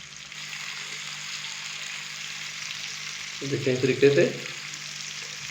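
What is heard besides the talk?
fish frying in a pan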